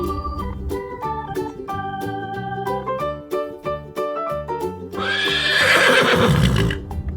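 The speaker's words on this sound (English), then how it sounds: "A horse say neigh." A horse gives a loud, shaky neigh near the end, rising clearly over a bouncy children's backing tune.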